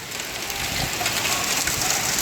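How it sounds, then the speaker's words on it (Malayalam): Hailstones rattle steadily on a tiled roof in a dense, continuous patter, close and even, with no voices. "ഇവിടെയൊക്കെ വീണ് അവിടെ മൊത്തം ആലിപ്പഴമാണ് ഗൈസ്."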